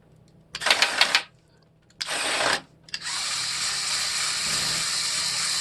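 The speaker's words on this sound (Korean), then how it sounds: "뒷바퀴가 돌아가면서 엔진도 같이 구동을 합니다." Mould King 13139 wing body toy truck with a model V8 engine driven by its turning rear wheels: three bursts of fast plastic clicking and whirring, the last running on continuously, close and fairly loud.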